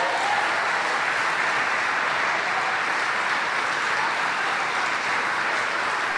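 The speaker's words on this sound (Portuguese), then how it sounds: "Dê um aplauso ao Senhor Jesus nesta hora." A church congregation claps together in a dense, steady round of applause that holds evenly throughout, with no voices standing out above it.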